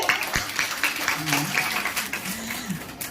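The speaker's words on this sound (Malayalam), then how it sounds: "എങ്കിലും അവർക്കൊരു കയ്യടി കൂടെ" A brief burst of audience clapping at an AIDS Day story-telling performance, a crowd applauding together for about three seconds, with a voice faintly heard underneath.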